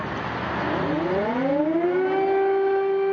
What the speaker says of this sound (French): La journée a été marquée par le bruit des sirènes.